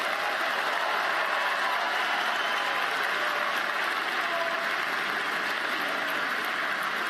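A commencement arena audience applauds graduates' friends and relatives, a steady distant-sounding wash of many hands clapping that continues evenly throughout.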